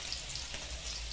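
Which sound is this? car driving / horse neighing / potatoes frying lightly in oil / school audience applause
potatoes frying lightly in oil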